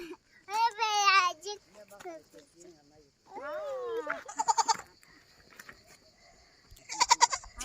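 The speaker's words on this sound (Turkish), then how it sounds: "bir tane keçi bulduk biz burada" A goat kid bleats loudly a couple of times, wavering cries up close in a village, while children and adults talk and laugh around it.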